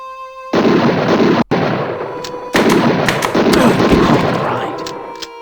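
Shotgun blasts in the horror adventure game Harvester: loud, booming shots with a brief drop to silence between them, overlapped by dense game noise.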